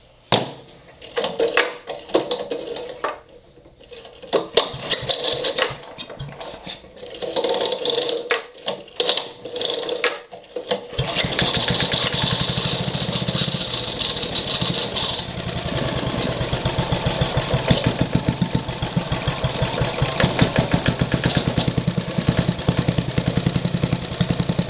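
A 1960s-era Briggs & Stratton small engine from a barn find sputters and misfires in irregular bursts, then catches and runs on as a steady, loud, buzzing putter close by.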